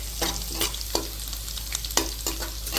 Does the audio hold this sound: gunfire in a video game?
no